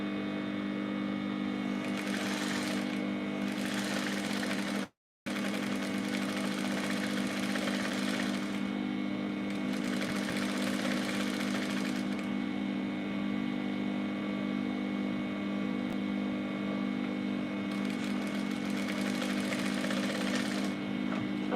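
A sewing machine runs steadily, stitching a straight skirt, a loud close continuous motor drone with a brief stop partway through before the whirring resumes.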